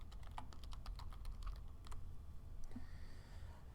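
A name is typed on a computer keyboard in a quick run of light, close clicking keystrokes, then a short pause and a couple of final taps, faint against a quiet room.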